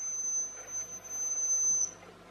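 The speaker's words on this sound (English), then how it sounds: "this rat is scree screaming or squealing at a high pitch" Piercing steady high-pitched tone from a Halloween rat light beeper, a continuous electronic squeal held for about two seconds before cutting off, over faint background hiss.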